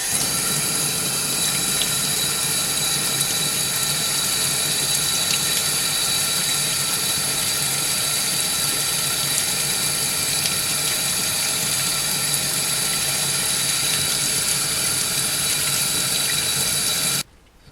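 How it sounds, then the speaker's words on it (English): A toothbrush scrubs the plastic parts and contacts of a Sega Genesis 6-button controller with soap and water, a continuous close, wet scratchy rasp with running-water hiss that holds steady for the whole stretch, then stops abruptly. "So everything is just getting scrubbed with a toothbrush here."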